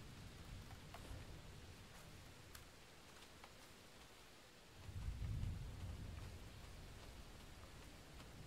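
Rain and thunder in the farming video game Roots of Pacha: a steady faint hiss of rainfall with a low rolling thunder rumble swelling in the middle, no voices.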